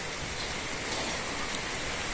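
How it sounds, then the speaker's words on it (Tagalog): Steady broadband hiss of rain falling continuously, fairly even and diffuse, with no voices or distinct drops standing out. "Wala na, ulan na yun."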